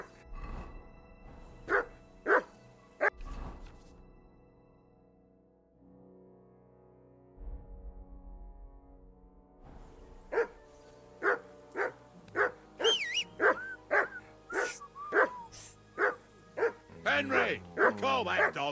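A dog barking in the video game Kingdom Come Deliverance II: a few sharp barks, a quiet pause, then a long fast run of loud, close barks with whimpery yips near the end.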